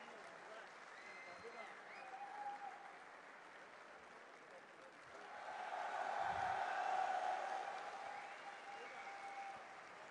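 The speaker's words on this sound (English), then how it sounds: "Let's give a round of applause to all our players who came out today to make the show great." Applause from a StarCraft 2 tournament audience rises as a sustained patter of clapping, swelling louder midway, with faint crowd noise and a voice underneath.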